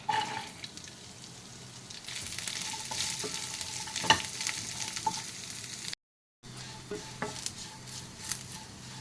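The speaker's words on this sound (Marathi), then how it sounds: "त्याच्यामध्ये हा श्रावण घेवडा मी भाजायला घालत आहे" Green beans roast in a spoonful of oil in a pan, giving a moderate, continuous sizzle close by, broken by scraping stirs and light utensil taps, with a brief gap partway through.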